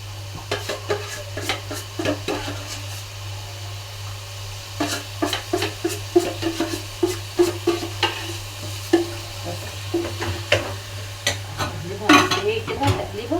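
Onion with ghee stirred in a pan, with a spoon scraping and knocking against the pan in irregular bursts over a faint, steady sizzle and a constant low hum.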